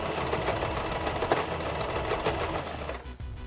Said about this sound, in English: fold those edges inwards and top stitch them using an elastic stitch